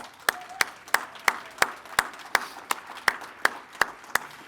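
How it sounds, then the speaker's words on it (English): At a commencement ceremony for heavy equipment graduates on the Staples campus, sharp, evenly spaced claps ring out about three per second, sounding like one or a few nearby people clapping in a steady rhythm against a quiet room. "Let's give them all a round of applause."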